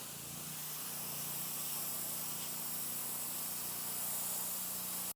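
A pressure washer wand spraying water while rinsing porch stairs, a continuous close hissing spray with a steady low engine hum underneath, holding level before cutting off abruptly at the end.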